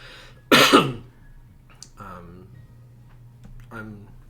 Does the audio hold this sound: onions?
no